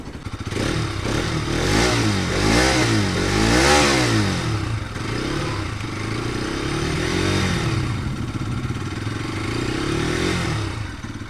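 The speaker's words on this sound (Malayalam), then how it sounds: "ഇതിൻ്റെ എക്സോസ്റ്റ് നോട്ട് കൂടെ ജസ്റ്റ് ഒന്ന് കേൾക്കാം അല്ലേ" Bajaj Pulsar RS 200 motorcycle revving up close: a loud, steady engine drone that rises and falls through several throttle blips, with no talking.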